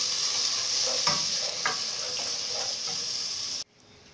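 Green chilies and salt frying in a pot: a steady, close sizzle with several distinct stirring scrapes, ending abruptly in near silence.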